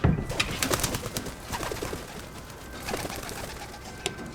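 Racing pigeons coo repeatedly around a loft, soft throaty calls overlapping in a close, busy chorus with scattered sharper bird notes and light background noise.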